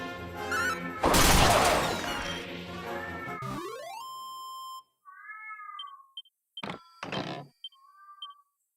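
A cat yowls and meows in a long, loud, distressed wail, followed by shorter broken cries, heard indoors over faint video-game chimes.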